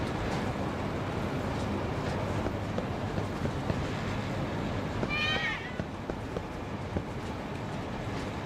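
A cat meows once amid the busy street ambience of the video game Lost Judgment, a brief mid-pitched cry rising over a steady wash of background noise.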